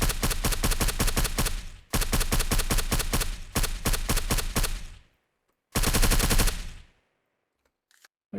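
Loud sustained bursts of automatic gunfire in the zombie survival game Surroundead: three long rattling volleys, a pause, then a fourth burst, with a couple of faint clicks near the end.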